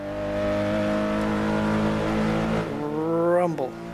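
Race car engine in Assetto Corsa at Le Mans holding a steady whiny harmonic tone, then dropping to a lower rumble before a rising rev and sharp cut near the end, with a voice talking over it.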